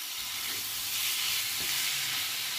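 Steady, loud sizzling of beef frying in a hot pan for beef teriyaki, a continuous hiss with faint stirring bumps underneath.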